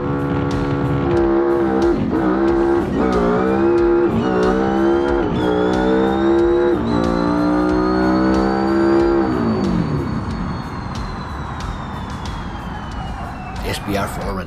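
A BeamNG drag car with a 6-speed sequential transmission screams through a loud clutch-dump launch, its engine note climbing in rapid steps through the gears before fading into a roaring high-speed run.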